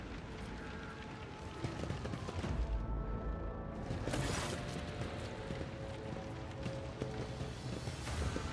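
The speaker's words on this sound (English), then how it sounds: "Echoes of shouts and gunfire drift over the landing pads." Gunfire echoing across a starport's landing pads in a Warhammer 40k Rogue Trader scene, faint distant rattling shots and dull bangs scattered through a steady rumbling ambience.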